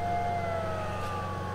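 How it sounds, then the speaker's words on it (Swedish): Alarm siren in S.T.A.L.K.E.R. Shadow of Chernobyl, a sustained wailing tone sliding slowly in pitch over a low steady hum, moderately loud and alone. "det är den där förbaskade sirenen som gör att det är irriterande"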